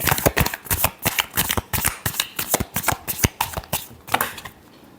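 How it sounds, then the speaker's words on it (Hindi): Tarot cards being shuffled, a quick run of crisp riffling flicks and slaps repeating steadily and close up for several seconds. "Last shuffle."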